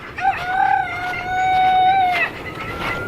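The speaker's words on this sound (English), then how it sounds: "and the chickens over here." Chickens on a snowy Texas farm in daytime, with a rooster giving one clear, close crow lasting about two seconds, then quiet farmyard background.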